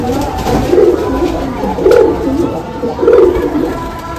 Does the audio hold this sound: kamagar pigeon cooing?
yes